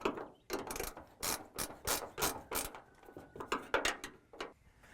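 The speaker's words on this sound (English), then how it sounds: "I'm going to work my way back using my combination wrenches" Combination wrenches working the trunk deck lid bolts on a car, giving a run of quick, close ratcheting and metallic clicking bursts in a steady rhythm, with no talking.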